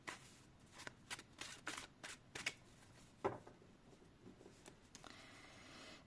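Tarot cards being shuffled for a reading, a series of quick riffling bursts, close and fairly quiet, with a pause and softer handling of the deck afterward.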